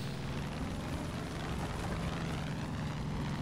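A propeller plane in the video game Far Cry 5 drones steadily, a dense, even engine roar holding at constant loudness with no talk.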